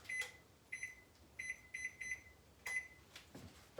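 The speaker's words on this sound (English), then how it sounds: "Let me put the timer on." Kitchen oven timer being set gives a series of short, faint electronic beeps, irregularly spaced single and clustered tones against a quiet room background.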